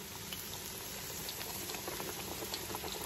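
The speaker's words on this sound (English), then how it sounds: "It's sizzling. I like my grease popping hot though." Mustard-coated fish fries in popping-hot grease in a cast iron pan, a dense, continuous crackle and sputter that stays close and even throughout, with no talk.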